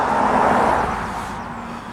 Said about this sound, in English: Hang on, car coming past.